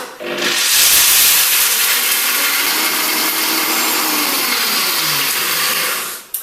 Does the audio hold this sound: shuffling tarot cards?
no